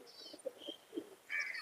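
A Giribaj flying pigeon from Murshidabad, held in the hand, gives faint, soft coos and short calls, quiet and close against a hushed background.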